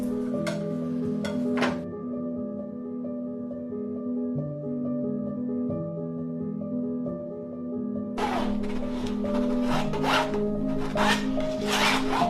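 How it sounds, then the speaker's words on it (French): A painting knife sweeps and sculpts thick paint across a canvas in short, close scraping strokes, with a clustered burst at the start and a longer run near the end over a steady low hum. "J'utilise le couteau à peindre pour balayer la peinture facilement et pour sculpter la matière."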